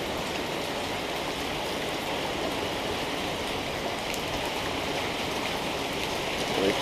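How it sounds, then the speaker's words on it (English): Heavy rain from Hurricane Harvey pours steadily in Houston, a dense, unbroken roar of falling water with wind, loud and constant throughout, no voices. "we also got a lot of rain still."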